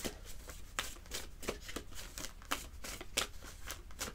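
Tarot cards being shuffled and drawn, a run of quiet, close papery riffles and sharp card snaps in an irregular rhythm, with no talk.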